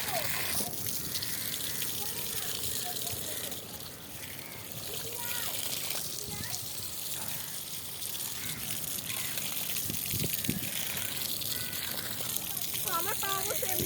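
Water runs steadily while feet are washed outdoors, a continuous trickling and splashing close by, with people talking over it throughout.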